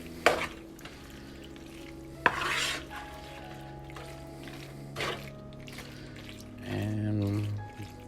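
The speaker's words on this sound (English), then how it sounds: "We're gonna give it a stir." A spoon stirs tomato sauce in a pan for a macaroni dish, giving a few scraping, clattering strokes over a faint sizzle, close by, while a voice speaks briefly near the end.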